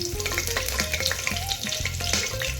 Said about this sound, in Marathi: त्यात जिरे मोहरीची फोडणी द्यायची.